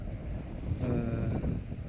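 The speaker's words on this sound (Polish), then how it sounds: "Jest za duży wiatr." Strong wind buffets the microphone on a house construction site during blocklaying for load-bearing walls, a steady rumbling roar that swells midway, with no talking.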